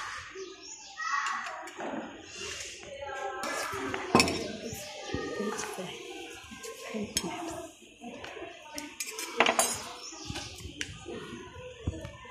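Utensils clink and scrape against a salad bowl as strawberries and other fruit are mixed, light irregular taps under children's chatter nearby.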